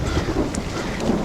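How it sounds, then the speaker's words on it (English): Heavy rain pours steadily beside a massive rock on a mountainside during flooding, a dense continuous hiss with a low rumble of thunder underneath. "I did not expect this much rain."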